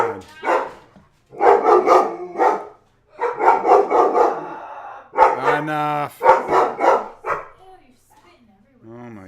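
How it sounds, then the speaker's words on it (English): A household dog barks in several short bursts at close range while a person talks over it and indoors chatter continues. "the minute we go live, the dog's got to bark"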